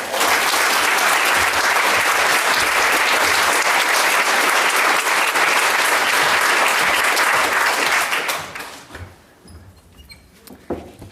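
Audience at a library community ideas event applauds the speakers, a loud sustained wash of clapping for about eight seconds that then thins out into a few scattered claps and quiet.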